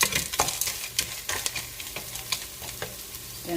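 A spoon stirs macaroni pasta in a pot of Italian wedding soup, close repeated scraping and clinking strokes over a soft sizzle, with no voices.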